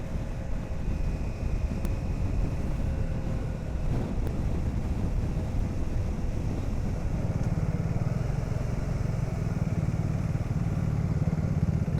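A motorcycle cruising along a highway on a trip from Delhi to Srinagar, its engine drone steady and continuous beneath heavy wind rush against the microphone.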